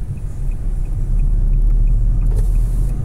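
A Brazilian highway crowded with trucks, the BR-116 near Vitória da Conquista, heard as a loud, constant low rumble of heavy road traffic from inside a moving car, with no talking.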